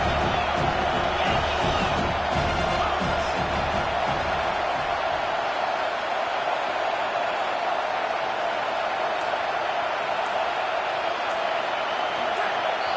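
Football stadium crowd at a TCU versus Miami game roaring steadily through a big third-down defensive stand, a dense, loud, continuous wall of cheering and shouting with no breaks.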